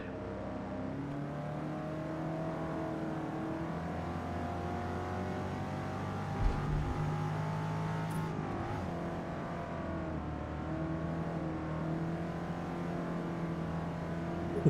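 A DS Automobiles DS3 engine in Gran Turismo 7, droning steadily under load with rising and falling revs and a brief gear-change dip midway, moderately loud and continuous.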